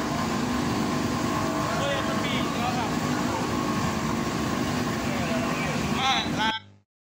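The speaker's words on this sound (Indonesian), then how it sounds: "ini adalah contoh dari suatu penggerak blade," An electric motor drives a blade, producing a constant loud vibrating hum with a whirring, rumbly texture that runs unbroken until it cuts off abruptly.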